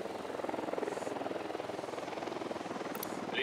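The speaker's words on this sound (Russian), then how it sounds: "Дрон в полете." A surveillance drone flying in the tactical shooter Ghost Recon Wildlands: a steady rotor whir with a rhythmic pulsing flutter holds at an even, moderate level for the whole stretch, with no voices over it.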